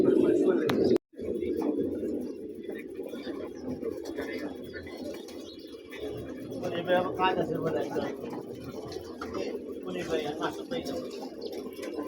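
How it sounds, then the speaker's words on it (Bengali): A male pigeon coos in low, repeated throaty phrases close by, with people talking over and around it throughout. "নর কবুতর"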